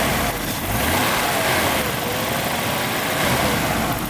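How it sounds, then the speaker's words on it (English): Jaguar AJ6 inline-six engine running smoothly, a steady even broadband hum heard close up, with no talk over it. "Very nice smooth engine is the AJ6"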